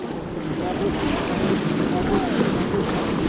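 A whitewater raft on the Peshtigo River moves through rapids, with steady rushing water and heavy wind buffeting the microphone, and faint voices underneath.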